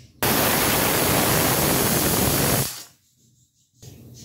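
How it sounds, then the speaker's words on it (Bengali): Fish frying in a pan in a home kitchen, a loud dense broadband sizzle running steadily for about two and a half seconds, then dropping to a faint low hiss. "এদিকে মাছটা এখন ভেজে নিচ্ছি।"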